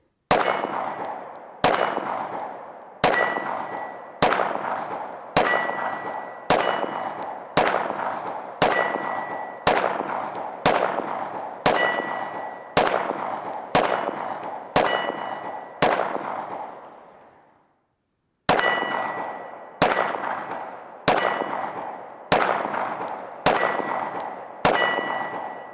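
Shots from a ported M&P 2.0 Competitor pistol ring out loud and close in an even, steady rhythm, with one pause partway through before the firing resumes.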